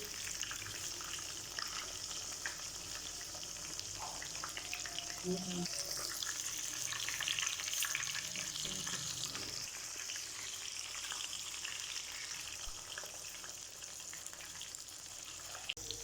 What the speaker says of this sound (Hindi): तकरीबन 10 मिनट इसको फ्राई करेंगे।